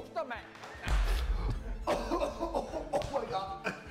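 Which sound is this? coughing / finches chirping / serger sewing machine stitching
coughing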